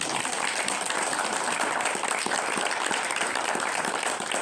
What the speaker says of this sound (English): should maybe give Leslie a round of applause